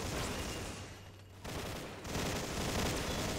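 Continuous dense gunfire from a machine gun in a first-person shooter game, loud and sustained, with a short dip before the burst resumes at full intensity.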